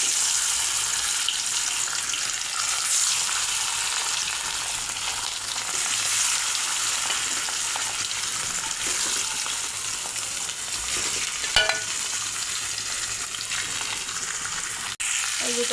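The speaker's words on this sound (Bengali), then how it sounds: "এখন হলুদ লবণ মাখা মাছ দিয়ে দেব।" Fish rubbed with turmeric and salt fries in hot mustard oil in a wok, making a loud, dense, steady sizzle that carries on throughout with faint clinks near the end.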